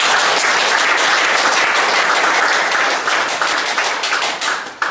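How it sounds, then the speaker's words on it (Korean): A full room of audience members at a school consultant workshop applauds two organizers. The clapping is loud, dense and continuous, then thins out and breaks into scattered claps near the end. "두 분한테 이렇게 격려의 박수 좀"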